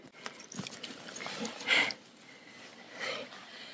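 A dog sniffing and snorting outdoors on a hike, several short close nasal bursts with a louder snort in the middle, faint breathy sounds around it.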